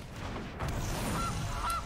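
Goose honks from the Gilded Goose card in the digital card game Magic Arena, two short nasal calls near the end over a steady background bed.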